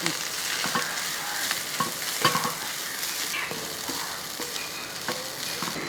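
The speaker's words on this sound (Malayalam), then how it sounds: "ചെറിയ തീയിൽ അത് വറുത്തെടുക്കാം" Grated coconut fries over a low flame in a pan, giving a steady close sizzle with occasional scraping stirs, and no voices.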